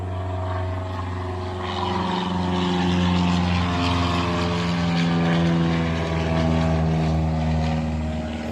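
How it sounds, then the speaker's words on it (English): Propeller airplane passing overhead, a steady droning hum with clear engine tones that swells in loudness toward the middle and stays strong throughout, with no voices over it. "busy day for planes today"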